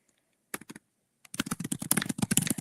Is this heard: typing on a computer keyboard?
yes